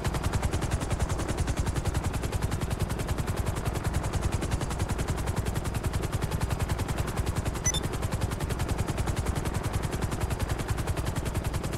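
Rapid, continuous pistol gunfire from a helicopter in the video game GTA Online, a steady loud stream of evenly spaced shots with no pauses, alone without talk.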